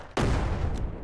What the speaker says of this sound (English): Nice little explosion on them